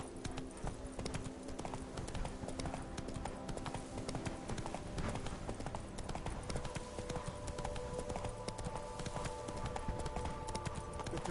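Horse hooves gallop in The Witcher 3 on PS4 with rapid, continuous clip-clop hoofbeats that keep a steady rhythm throughout, fairly close and uninterrupted.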